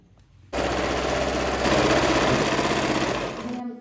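A sewing machine stitching the folded hem of crepe fabric pants: a loud, close, continuous rapid mechanical whirring that starts abruptly and runs steadily for about three seconds before stopping.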